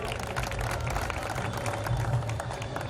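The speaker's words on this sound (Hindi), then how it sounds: "बहुत बढ़िया तालियां।" Audience at a Saraswat Brahmin community Rang Panchami gathering applauds, a steady, dense crowd clapping sustained throughout with faint voices mixed in.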